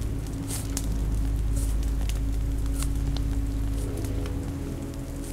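Steady cold rain falls and patters on surfaces, a dense continuous wash with scattered louder drops and no speech.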